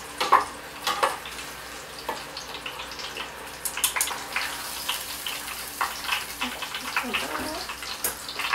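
Breaded pork cutlets (donkatsu) fry in hot oil at home, a steady close crackle and sizzle with scattered pops throughout, with no talk over it.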